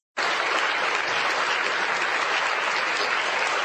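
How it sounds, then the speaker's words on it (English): An audience breaks into sudden, sustained clapping, loud and dense from start to finish, with no voices on top. "Let's get a real clap."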